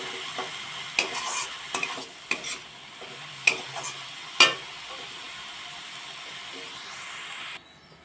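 A chira sandesh mixture of flattened rice being stirred in a hot pan makes a soft continuous hiss and sizzle, punctuated by several sharp scrapes and taps of a spatula against the pan, close and without talk.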